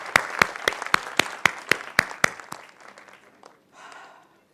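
Sharp, evenly spaced claps from a small group at a company felicitation event in India ring out close for about two seconds, then thin out and fade.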